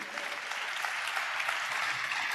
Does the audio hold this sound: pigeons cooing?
no